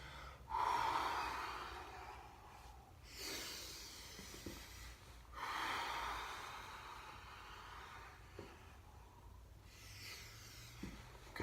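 Sharp, forceful breaths during a Systema sit-up: a strong gasping inhale, then long hissing exhales and quicker snorting bursts in a steady rhythm, close and fairly quiet with no talk.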